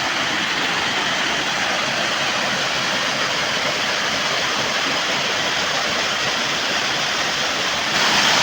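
Steady rushing splash of a small waterfall at Balanipashi, a continuous broadband roar that holds unbroken and close for the whole stretch, with no voices over it.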